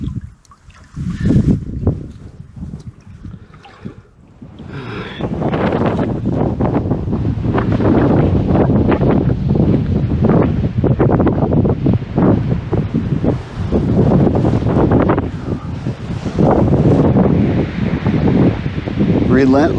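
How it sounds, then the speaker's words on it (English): Strong, relentless wind gusts buffet a wilderness campsite, a loud continuous roar with microphone buffeting that builds after a quieter start and holds steady throughout. "Relentless wind, just won't stop."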